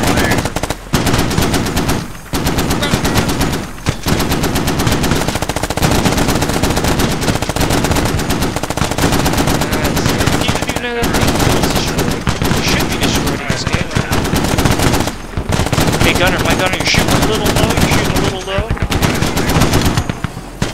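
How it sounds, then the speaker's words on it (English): A Marine Mark 19 grenade launcher and .50 cal machine gun fire together on a range target tower, a loud, dense stream of cyclic bursts and booming reports with only brief pauses, with radio voices cutting in now and then. "Give me a cyclic rate of fire on that Mark 19."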